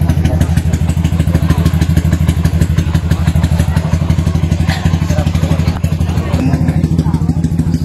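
A motorcycle with a loud aftermarket exhaust pipe revs steadily and loudly at a motor show in Kiamba, its dense rapid firing pulses holding throughout, with crowd noise and voices faint underneath.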